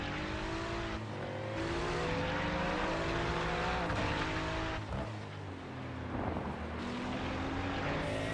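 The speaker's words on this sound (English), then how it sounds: "going to hop on board with Mini Land here as he's starting to play some World Cup-looking defense over this Ford Mustang" Ford Mustang GT3 race car in a racing video game, Brands Hatch circuit, roars with a loud, continuous engine note that rises through gears and dips briefly, with other GT3 cars close by.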